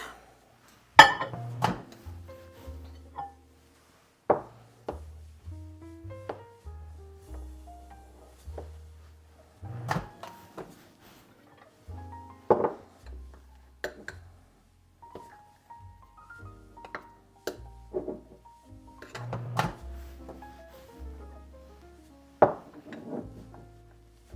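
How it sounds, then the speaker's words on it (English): Cream cheese fudge mixture stirred in a pot, with a string of intermittent knocks, scrapes and clinks from the utensil against the pot, some louder hits among many quieter taps. "every 30 seconds or so, give it a stir to get the heat evenly distributed"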